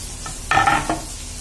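Onion goes into masala frying in a pan and is stirred, giving a brief burst of sizzling and scraping that rises quickly and fades within a second, with no voices.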